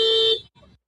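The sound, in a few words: car horn honking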